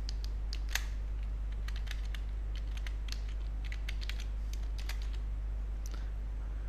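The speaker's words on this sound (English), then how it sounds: "Enter the password." A computer keyboard clatters as a password goes in, with irregular bursts of crisp keystrokes spread across several seconds over a loud, steady low hum.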